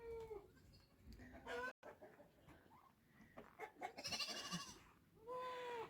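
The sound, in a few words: chickens in a barnyard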